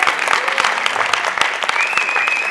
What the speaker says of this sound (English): Yeah, clap harder, clap harder.